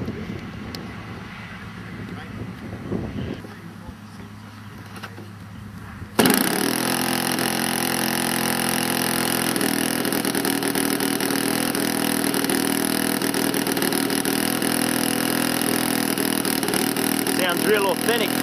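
A small ASP400 model aircraft engine fitted with a Walbro carburettor starts abruptly and then runs at a steady, loud, buzzing drone throughout. Quieter background noise and some handling sounds come before it starts.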